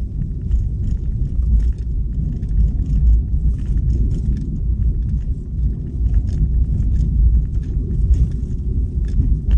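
Vehicles in two-way traffic on a rough, potholed rural shortcut road near Naga, a heavy continuous low rumble of engines and tires, loud and close, with faint rattles on top.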